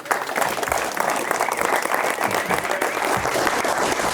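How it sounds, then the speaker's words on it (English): Steady crowd applause at a footgolf awards ceremony for the Footgolf Irish Open, dense clapping sustained at an even level throughout with no break. "Give Alan a round of applause"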